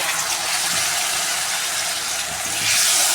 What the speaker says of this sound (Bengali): মশলাটা কষে গেছে, বাটি দেওয়া জলটা আমি দিয়ে দিচ্ছি